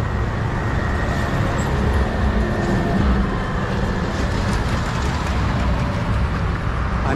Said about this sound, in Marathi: ती आता येरवडा मेट्रो स्टेशनमध्ये जाईल आणि तिथे न थांबता पुढे जाईल